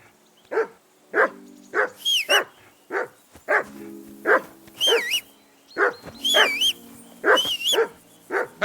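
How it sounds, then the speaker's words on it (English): A dog barks repeatedly in the medieval video game Kingdom Come: Deliverance 2, a dozen or so sharp, close barks in an uneven rhythm, some stretched into high, whining yelps. "Whistle at that mutt of yours to stop barking!"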